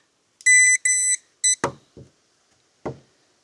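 A metal detector gives a few bright electronic beeps in quick succession as it picks up a metal door hinge on an old wooden door, followed by short knocks and taps, with a last tap after a brief pause.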